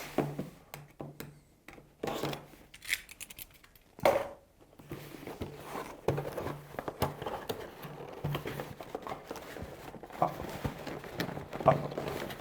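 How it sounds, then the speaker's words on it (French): A Nerf Modulus Ion Fire blaster box is opened by hand, with scattered cardboard rubbing, tearing and tapping sounds. The irregular scrapes and knocks are close and fairly quiet, and they continue for several seconds. "qu'est-ce qu'on va trouver à l'intérieur de cette boîte que nous allons ouvrir tout de suite, relativement proprement"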